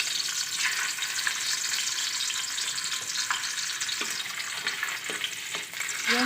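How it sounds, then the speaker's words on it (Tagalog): Softened hotdogs fry in a pan for breakfast with a loud, continuous close sizzle, plus a few light pops and utensil taps. "diretso na yung hotdog iprito kasi malambot na siya eh"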